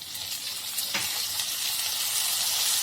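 Vegetables for street-style veg chowmein sizzling in a pan as a small spoonful of vinegar goes in, giving a continuous close hiss that brightens and intensifies toward the end.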